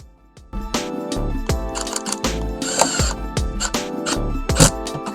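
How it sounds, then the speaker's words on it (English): Screws being driven by hand into an ABS front lip spoiler on a Tesla Model Y, with a run of sharp ratcheting clicks and mechanical clatter, close and fairly loud, and no talking. "So I will install these screws right about now."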